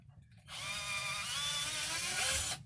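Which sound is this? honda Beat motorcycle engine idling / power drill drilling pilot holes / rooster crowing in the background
power drill drilling pilot holes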